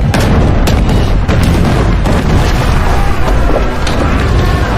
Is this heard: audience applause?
no